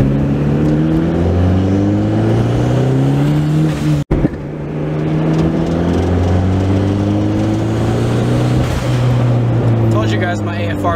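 Turbocharged Honda accelerating hard through the gears, engine pitch climbing in repeated sweeps with a brief cut around a shift, loud and close from inside the car.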